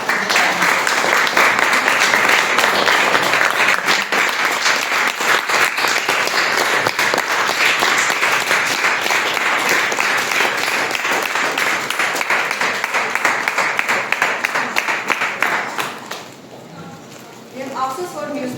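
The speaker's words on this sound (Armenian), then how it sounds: "ուզում եմ այսօր բոլորս միասին ծափահարենք այստեղ ներկա գտնվող մեր վիպ խորհրդատուներին" Seminar audience applauding VIP consultants, dense sustained clapping from a crowd lasting many seconds before tapering off into a voice near the end.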